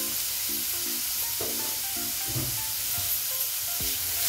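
Chopped tomatoes with salt sautéing in a hot pan for a restaurant-style paneer and peas curry, a loud, steady sizzle broken by scraping stirs, close up and without talk.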